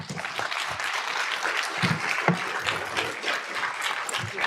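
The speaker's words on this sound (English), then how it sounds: "Keep that round of applause going for a moment" An audience keeps up a sustained round of applause after a congressional representative's speech, steady and full, with faint voices mixed into the clapping.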